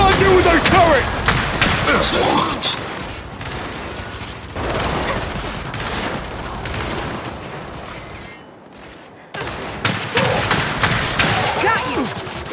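Sustained turret fire in the Gears 5 Fighting Chance chapter, dense crackling bursts of gunfire running most of the way with a brief lull near the end before heavy shooting resumes, under shouted combat talk.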